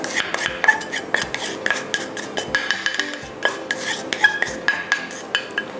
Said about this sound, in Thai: ก็ใช้พายนะคะผสมทุกอย่างให้เข้ากัน